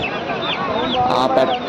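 Rooster at a village poultry market selling country and game-breed fowl, giving short clucking calls close by amid a steady crowd murmur and talk.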